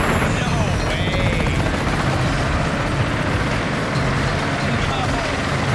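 A helicopter at a game show thunders loudly and continuously throughout, its steady rotor roar dominating while people talk over it.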